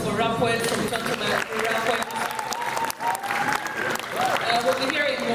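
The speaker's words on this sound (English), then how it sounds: "Another round of applause for rap poets from Kampala." Evening poetry-show audience in Kampala applauds rap poets: loud, dense clapping and cheering fill the hall for several seconds, with a crowd roar and faint musical tones underneath.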